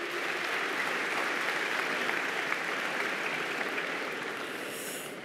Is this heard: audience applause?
yes